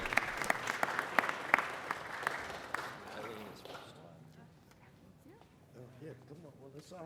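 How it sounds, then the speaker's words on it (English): Audience applause at an LA City Council presentation honoring GHFC leadership: a burst of clapping fills the first three seconds, then fades into scattered claps and murmuring voices as people talk. "Let's give them all a round of applause."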